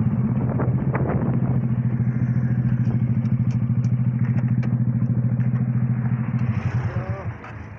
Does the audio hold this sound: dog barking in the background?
no